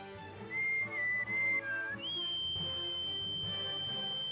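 A melodic whistle used to calm the Featherfolk in the Suikoden video game plays a short wavering tune, then holds one long high note, heard faintly over quiet background music.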